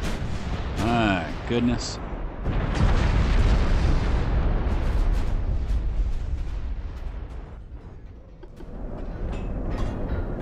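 Torpedo launches and heavy explosions in the naval warfare game Ultimate Admiral: Dreadnoughts, with a loud sustained rumble of blasts and gunfire filling the mix while someone speaks a brief exclamation over it.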